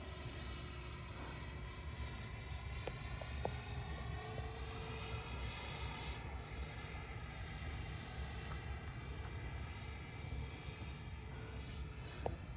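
A Freewing Eurofighter Typhoon 6S 90mm EDF RC jet flies with a steady, distant whine from its electric ducted fan, faint and continuous with a slight shift in pitch over an airy outdoor background.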